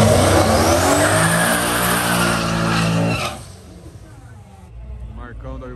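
A Chevrolet Camaro engine on a race track revs loudly and climbs in pitch for about three seconds, then cuts off abruptly. A quieter engine rumble follows, and a voice is heard near the end.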